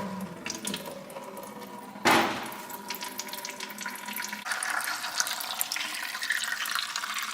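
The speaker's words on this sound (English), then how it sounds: "I'm gonna go ahead and pull the drain plug right now" Transmission fluid from a GM Duramax truck's transmission pan drains into a bucket in a steady, close pour. One sharp splash near the start opens the stream, and the flow gets stronger and brighter in the last few seconds.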